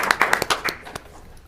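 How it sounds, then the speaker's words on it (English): A short burst of audience applause at a school board meeting: a handful of sharp, separate claps that quickly thin out and stop. "let's all give Hudson another round of applause"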